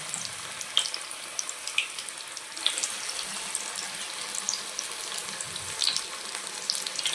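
A fresh batch of spinach pakoda frying in hot oil, giving a steady, close sizzle and crackle with frequent small pops throughout.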